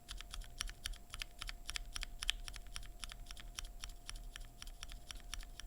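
Rapid, even typing on a keyboard fitted with stock BSUN Glacier Panda linear switches: a steady stream of light, clicky keystrokes, close and quiet, with no talking.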